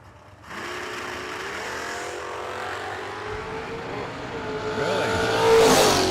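A Pontiac Tempest and the Orange Crush Mustang launch side by side at a bracket drag race, engines roaring and climbing in pitch as they pull away, loud and close, with a sharp rising whine near the end.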